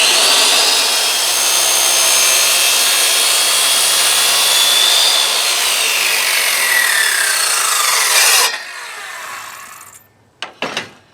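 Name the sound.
saw cutting a notch in a wooden post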